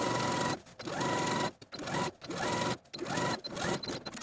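A sewing machine runs a quarter-inch seam on a dress, stitching in loud, rapid bursts with brief stops between runs, the motor's hum rising and falling through each pass.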